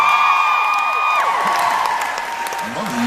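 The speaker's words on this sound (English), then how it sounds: "I love that you guys all cheer that" Convention panel crowd at MinnCon 2016 breaks into loud, sustained cheering and applause, dense clapping with whoops, fading slightly over a few seconds while someone speaks underneath.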